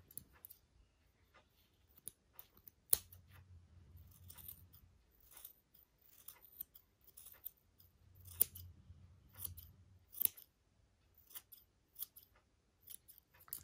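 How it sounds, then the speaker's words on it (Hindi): Scissors snip extra wool yarn from a knitted girls' cap. Several crisp, close clicks are scattered irregularly, with faint low rustling between them and no talking. "जो मुझे एक्स्ट्रा बूल इसमें लगेगी उसको हम ऐसे काट देंगे"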